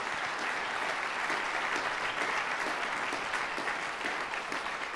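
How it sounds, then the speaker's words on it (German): Steady, dense applause from a concert hall audience honoring pianist Hans Su at the Telekom Beethoven Competition Bonn chamber music final, sustained evenly for the whole stretch with no voices over it. "bitte einen großen Applaus für Hans Su"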